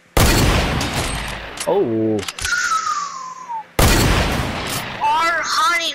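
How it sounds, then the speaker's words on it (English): Hunting rifle shots in the Fortnite video game: loud, sharp broadband blasts in two clusters, with voices and other game sounds in between. "Our hunting rifle skills is on point right now, brother."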